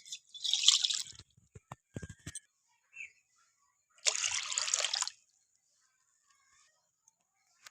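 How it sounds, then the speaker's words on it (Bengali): Water is poured from a bowl into a pan to make sugar syrup for a semolina sweet. There are two short splashing pours several seconds apart, with light clinks and taps between them, close up and fairly quiet. "এবার আমি একটা মিষ্টির শিরা বানিয়ে নেব তার জন্য আমি নিয়ে নেবো ওই বাটি দু বাটি জল"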